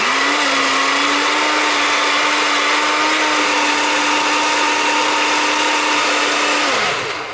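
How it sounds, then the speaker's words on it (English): A powerful blender whirs through frozen fruit for a smoothie, a loud steady motor roar holding one pitch before spinning down near the end. "Ah, the sound of that blender."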